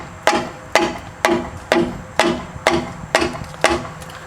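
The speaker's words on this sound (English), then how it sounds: "Probably doesn't help that I'm using a mallet, but it's almost out." Eight evenly spaced sharp metallic-wooden knocks from a mallet striking a lower ball joint on a 2008-2013 Nissan Rogue front lower control arm, close and loud, each with a short ringing decay, no talk.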